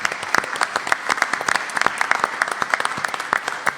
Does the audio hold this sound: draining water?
no